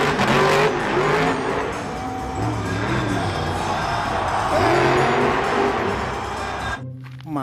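A monster truck engine revs hard and roars steadily with rising and falling pitch, loud and close, with a faint crowd murmur beneath, cutting off abruptly near the end.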